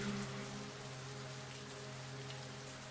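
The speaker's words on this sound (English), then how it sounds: "I looked out into the rain." Steady rain falls in the video game Project Zero 3, an even, close hiss of drops on surfaces that continues without a break over a low background hum.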